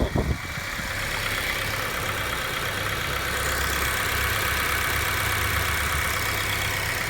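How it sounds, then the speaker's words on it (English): An EP3 Civic Type R engine ticks over at idle nearby while cold, a steady low hum with a slight buzzing vibration from an engine cover running underneath. "both cars sound nice at idle"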